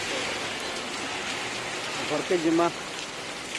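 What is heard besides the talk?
heavy rain falling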